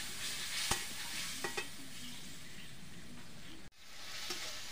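Onion and chili frying in a pan for a Bengali-style charapona fish dish, with mustard-onion paste added: a steady close sizzle with a few sharp clinks of a stirring utensil and a brief dip midway.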